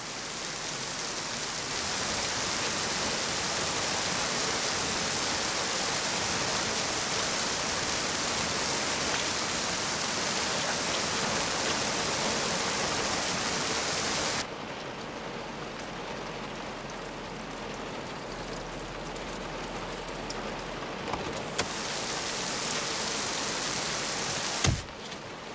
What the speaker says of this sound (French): Il pleut trop.